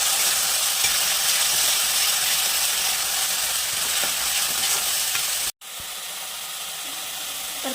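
A pan of onion, tomato and coconut masala puree roasts with a steady hiss and sizzle and faint scraping stirs. The sound cuts out briefly near the end, then resumes slightly brighter.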